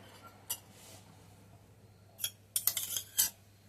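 A spoon clinks against a bowl while garam masala and oil are mixed, a few sharp scattered taps and scrapes at close range, with quiet stretches between them and no talking.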